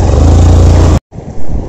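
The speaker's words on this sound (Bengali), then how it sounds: "বাইক ফাঁসি গেল ফাঁসি গেল" A motorcycle stuck during a rural outing roars loudly and close as it revs hard, cuts out for a moment, then picks up again.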